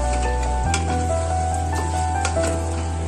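Mutton and potatoes being stirred and fried in a pan for a Bengali mutton curry, a loud close sizzle with clinks and scrapes of stirring over a steady low hum.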